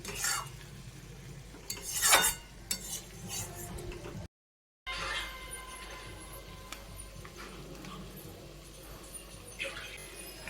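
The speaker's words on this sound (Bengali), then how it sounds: "মশলাটা আরও ভাজবো এখন" Masala for egg curry fries in a pan while being stirred, with scraping spoon strokes and clinks over a soft sizzle, a brief silent gap, and talking in the background.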